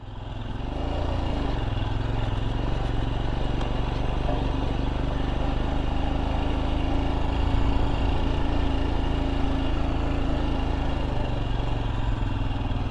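A Royal Enfield Scram 411 motorcycle engine runs steadily close by, with a loud, even low thumping drone held throughout and no voices.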